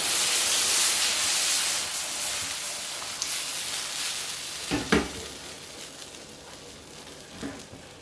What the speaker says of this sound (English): Turn the gas up, let it boil a bit.